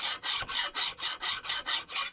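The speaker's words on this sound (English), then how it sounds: "when you go from a file that's skating across a relatively flat surface to one that is just touching on a burr or a high spot" A metal file rasps across a vise surface in nine even back-and-forth strokes, a bright, gritty scraping that is close and steady with brief pauses between passes.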